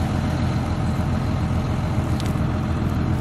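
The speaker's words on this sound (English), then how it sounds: "I'm running the strip freshener." A tractor pulling a strip-till freshener drones steadily and loudly at close range, a constant low rumble of machinery running with no pauses or speech.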